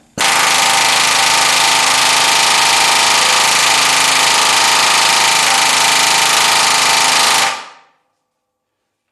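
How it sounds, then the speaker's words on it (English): A pneumatic air hammer pounds on a heated trailing arm bolt of a 1976 Corvette, a loud continuous rattling burst lasting about seven seconds before cutting off abruptly. A voice speaks briefly. "then I took the air hammer and nothing happened."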